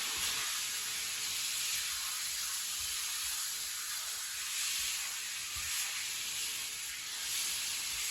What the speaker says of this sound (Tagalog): Prito-prito ko lang muna mga kabeshi